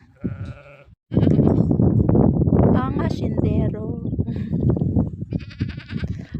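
A baby goat on a farm bleats loudly and insistently for its mother, a long run of close, wavering cries following a brief opening sound, with people talking nearby.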